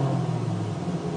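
The Honda 62 touring race car's engine, restarting after going off course, gives a brief low rumbling drone with steady throbbing at close range and no clear rev.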